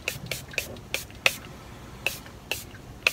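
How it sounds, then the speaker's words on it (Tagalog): Makeup fixer spray misted in quick bursts, about nine short sharp hissing puffs at an irregular rhythm, close up and clear against a quiet room. "I will give you my first impression about this makeup fixer spray."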